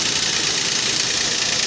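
3.5 liter V6 car engine with 240 horsepower idling up close, a steady, loud broadband hum with no breaks and no talk.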